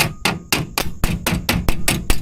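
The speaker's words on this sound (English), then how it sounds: "Claw hammer works pretty good for this." A claw hammer taps a metal tab in a steady series of about nine sharp, evenly spaced strikes, close and ringing briefly after each hit.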